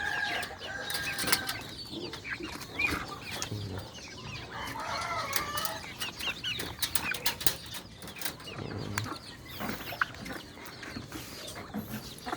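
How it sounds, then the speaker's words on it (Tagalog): Chickens in a backyard coop clucking and squawking with repeated bursts of wing flapping, fairly close but moderate in level, scattered calls overlapping across the span. "Laki na ng manok natin dito."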